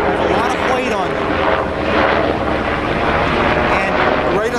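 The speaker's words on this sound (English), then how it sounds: "It's a Black Hawk. Their helicopters have a lot of weight on them." A U.S. Black Hawk helicopter flying near a golf course, a loud continuous rotor and engine roar that holds steady throughout, with people talking over it.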